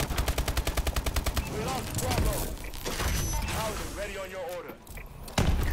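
Automatic gunfire from Call of Duty: Advanced Warfare multiplayer comes in rapid, even bursts at the start, then continues as dense overlapping shots and explosions, with voices faintly mixed in.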